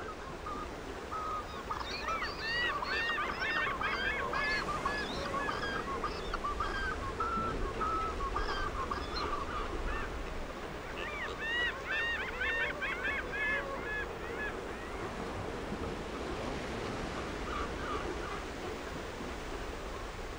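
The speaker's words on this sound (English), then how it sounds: "attract water birds from the Patagonian region, which form into noisy and abundant colonies" A crowded colony of water birds in Chilean Patagonia honks and calls constantly in the distance, overlapping bursts of cries over a steady background hiss.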